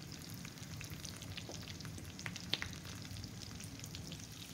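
Fish frying and being basted in a pan over low heat with fresh thyme, a steady close sizzle with scattered spitting crackles and small pops, unbroken throughout, no voices.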